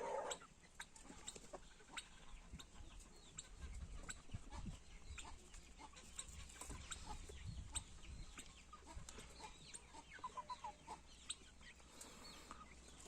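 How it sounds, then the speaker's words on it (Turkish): Chickens cluck and a rooster calls amid a busy farmyard, with scattered clucks and low background rustling throughout. "Baba horoz."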